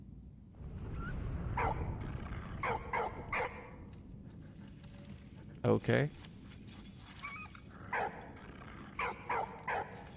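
Dog from the video game Valiant Hearts: The Great War, giving a few short barks and whimpers in bursts over game background sound while someone talks throughout.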